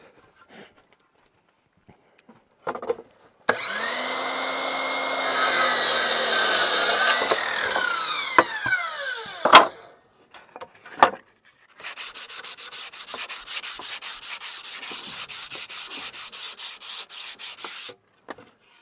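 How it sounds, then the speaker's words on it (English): Wood is sawn by hand with quick rasping strokes, then sanded with a rapid, even scrubbing rhythm, up close, with occasional knocks between. "Cut it, sand it all down, make it pretty."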